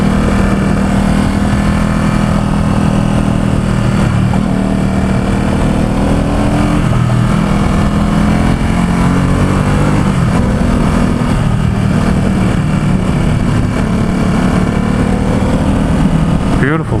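A 2017 Ducati SuperSport S motorcycle cruising on a freeway in San Francisco, with a steady, loud engine drone and heavy wind rush running continuously throughout.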